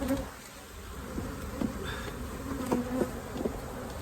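Bees in an opened beehive give off a dense, continuous buzz up close, with individual insects droning louder as they pass near, and no talking.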